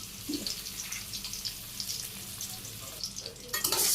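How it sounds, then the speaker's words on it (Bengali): Eggs frying in a pan as they are turned, a steady close sizzle with soft scraping of a spatula, rising into a louder burst of sizzling near the end, with no talk. "নাড়া দিয়ে দিয়ে আবার ডিমগুলো ভাজি হয়ে গেছে"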